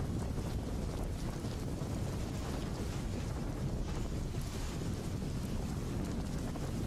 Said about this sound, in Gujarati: દરિયામાં ભારે કરંટ સાથે મહાકાય મોજા પણ ઉછળ્યા